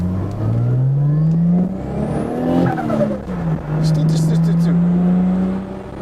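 A tuned turbocharged Lexus SC300 pulls hard on a city street, its engine note climbing through two long rising sweeps with a brief dip for a shift between them, loud and close from inside the car, with occasional voices over it.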